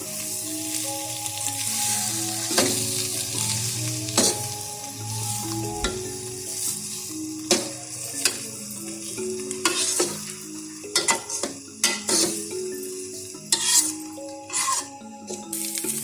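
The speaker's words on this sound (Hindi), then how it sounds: "अब हम इसमें हलवा कद्दू ऐड करेंगे और इसको 5 मिनट के लिए फ्राई करें।" Pumpkin and semolina halwa frying in a pan, a continuous sizzle under repeated metal spoon scrapes and clinks against the pot as it is stirred steadily, close and fairly loud.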